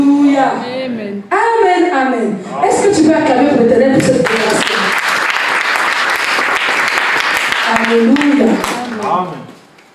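Church congregation applauding and cheering during a French-language sermon, loud dense clapping swelling after a preacher's voice and holding for several seconds before fading, with speech at the start and end.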